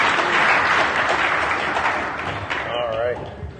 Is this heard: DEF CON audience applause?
yes